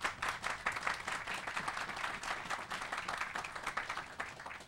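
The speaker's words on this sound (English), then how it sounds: "So let's give them a round of applause." Crowd applause at the grand opening of a Save-A-Lot store in St. Louis, a steady wash of many hands clapping at moderate volume, sustained without letup and with no voices standing out.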